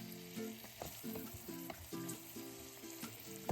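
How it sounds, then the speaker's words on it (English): Chopped vegetables sauté in a soup pot over brown bits and drippings left from cooking bacon, giving a faint, steady sizzle broken by repeated scraping stirs of a utensil against the pan. "Saute those veg for a minute or two."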